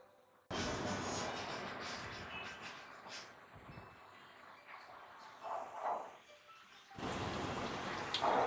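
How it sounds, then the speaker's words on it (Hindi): Chillies coated in gram flour batter dropped into hot oil for mirchi bhajiye, a loud sizzling hiss that starts abruptly, eases midway with bubbling flare-ups, then surges again near the end. "मीडियम हीट पे इसे फ्राई करना है"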